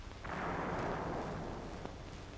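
A tank gun fires an APC M61 shell with base-detonating fuse at pillbox loopholes, giving a single heavy blast followed by a broad rolling roar that fades slowly.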